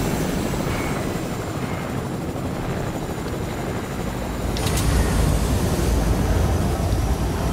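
A helicopter in the video game Fortnite drones steadily with a loud, continuous rotor roar that swells slightly louder partway through, with no talking.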